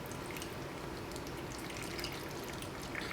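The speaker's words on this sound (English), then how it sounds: "now we're just going to pour this over into the jars over our cucumbers." Warm pickling brine pours into jars over packed cucumbers, giving a steady close splashing and trickling liquid sound with faint drips, continuous and unbroken with no talking.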